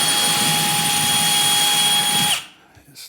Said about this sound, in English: Very light on the drill bit.